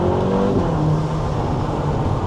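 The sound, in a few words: turbocharged Ferrari engine sound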